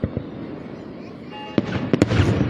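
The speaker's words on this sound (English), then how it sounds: "you get to hear the tone of the bell while the fireworks exploding." Fireworks go off at a regatta display, sharp booming bursts and crackles at a distance, a couple early and a cluster near the end, over a sustained low rumble with a faint bell tone.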